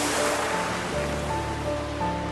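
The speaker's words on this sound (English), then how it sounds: "As the waves hit the shore, a few people are riding them," Ocean waves washing onto a beach in India where surfers ride the swell, a steady broad roar of surf filling the whole stretch with faint low tonal hum beneath.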